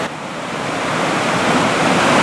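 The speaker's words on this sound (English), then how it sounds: "A lot of power in that river" A powerful river rushing past a bent steel pipe crossing it after a flood, a steady broadband roar that swells slightly louder throughout, with no voices.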